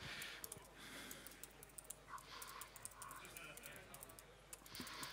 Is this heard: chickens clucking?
no